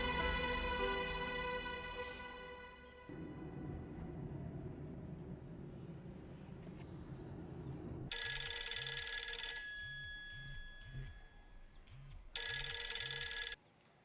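A telephone rings in a domestic drama scene, two bursts of shrill electronic trilling pulses after a stretch of low rumbling background, the rings loud and close with no talk over them.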